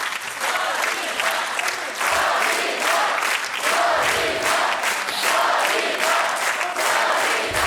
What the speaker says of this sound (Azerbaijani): bu alqışlarla sizi yola salırıq